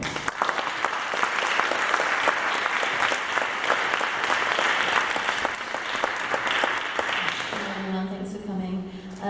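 Sustained audience applause greets an author at an American University talk, dense steady clapping for about eight seconds before tapering off as a voice begins speaking at the end.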